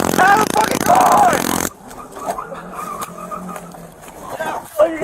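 SUV pulling away with its tires squealing on the pavement during a police confrontation in Florida, engine roar and tire screech close and loud at first, then dropping under frantic shouting.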